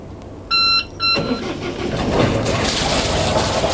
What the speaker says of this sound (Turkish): Makinamızı çalıştıralım. Makinamız Volvo Penta